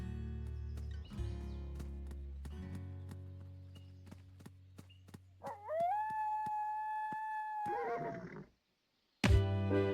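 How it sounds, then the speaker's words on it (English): Roblox Sonora game audio with a horse's whinny and a coyote's howl, tonal calls rising and holding over a steady low game drone, with sharp clicks and a brief silence near the end. "I made a friend with another horse who helped me combat"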